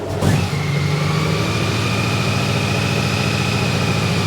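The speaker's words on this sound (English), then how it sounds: "The Honda Goldwing is starting." Honda Goldwing motorcycle with a DCT starting fault cranks briefly, catches and settles into a steady, loud idle that hums on evenly close by.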